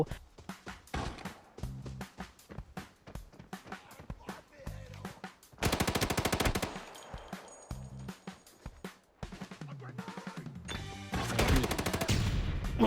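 Rapid bursts of gunfire crack repeatedly in the video game Arena Breakout, with automatic fire in several loud volleys separated by brief pauses.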